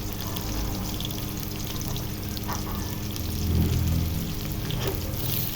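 Onions dropped into a pan of golden-browned garlic, sizzling steadily with a brief swell of frying about two-thirds through, no voices.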